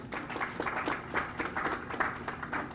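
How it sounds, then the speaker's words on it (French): Ceremony audience applauding: a steady patter of many hands clapping, fairly distant and soft, continuing throughout without speech. "je vous demande d'applaudir s'il vous plaît."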